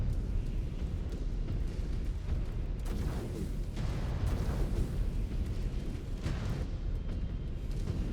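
Long-range missiles launching and exploding in MechWarrior 5 Clans, a dense rumbling barrage of booms and blasts rolling continuously, with heavier impacts standing out midway.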